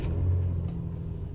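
A 2007 Subaru Legacy engine runs at a steady, low idle right after starting, giving a smooth, even rumble recorded nearby with no talking.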